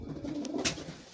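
Pigeons coo softly in a dark loft at night, a low, close, murmuring burble with a faint rustle partway through and no voices.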